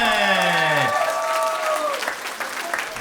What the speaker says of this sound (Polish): Brawa dla Moniki Dawida, poprosimy